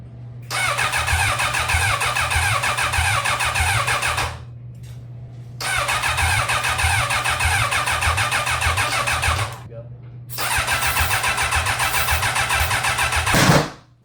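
A 1000cc motorcycle engine fitted in a Chinese buggy cranks with a steady starter whir through three long attempts separated by pauses, ending in a brief louder burst.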